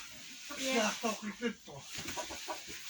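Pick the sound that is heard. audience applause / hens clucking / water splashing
hens clucking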